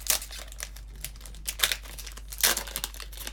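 A Pokémon card booster pack wrapper is torn open, with close, crisp crinkling and several short ripping bursts in quick succession, fairly faint over a steady low hum.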